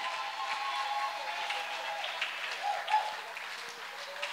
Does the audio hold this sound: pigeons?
no